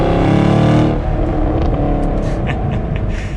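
The exhaust of a 2021 Chevrolet Camaro 2SS 1LE roars loud and close while driving, then eases into a steady, throaty drone as it cruises.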